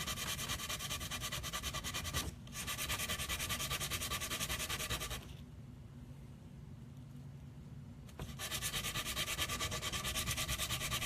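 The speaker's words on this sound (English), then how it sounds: "we're sanding and we're sanding and we're sanding" Hand sanding on a prop in a prop shop, a steady close rasping rub that runs continuously, pauses briefly near the middle, then resumes alone.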